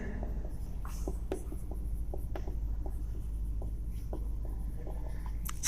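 Chalk or marker tapping and scraping on a classroom board in short, irregular strokes over a steady low hum, with no talking.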